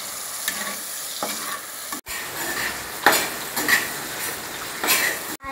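Cleaned dried prawns crackle and sizzle in a hot pan while a metal spoon scrapes and clinks against it in irregular strokes, close and moderately loud.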